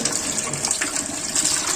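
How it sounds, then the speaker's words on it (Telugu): Tap water runs steadily through goat tripe held under it for washing, a continuous close gushing splash with no talking. "ఈ రంధ్రంలోకి వాటర్ పోయేటట్టు పెట్టుకోవాలి"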